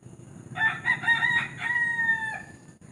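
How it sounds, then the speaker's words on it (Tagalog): Rooster crowing on a farm at night among many chickens, one long harmonic crow stretching across most of the moment over a steady low background rumble, fairly close and clear, no talking. "Daming manok. Grabe, it's a farm."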